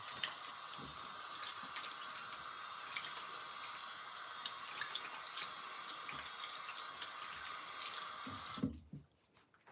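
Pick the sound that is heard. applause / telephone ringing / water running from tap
water running from tap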